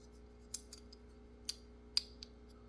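Kizer Amicus button lock knife clicking as its blade seats, a few sharp, quiet metallic clicks scattered with gaps between them, close up with no talking.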